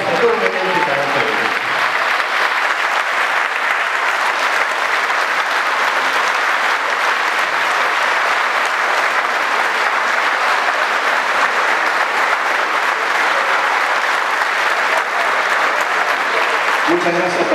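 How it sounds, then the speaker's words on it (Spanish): Sustained audience applause at an association event in Loma Hermosa, Tres de Febrero, a dense wash of clapping that fills the whole stretch without letup, with a brief voice at the start and end. "un fuerte aplauso para toda esta gente que trabaja todo el mundo para ustedes"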